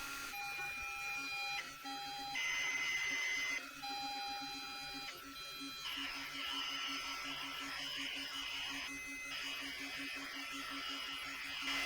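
ZX Spectrum Harlequin 128k kit computer loading a test program, its tape-style data signal played at full volume: steady high pitched tones switching abruptly between pitches with buzzing, warbling data noise, loud and continuous throughout.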